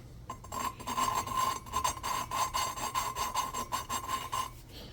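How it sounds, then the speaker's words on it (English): Lapping tool working a golf cart engine valve against its seat, a rapid rhythmic grinding rasp in repeated back-and-forth bursts, close and fairly quiet. "This is called a lapping tool for lapping your valve in."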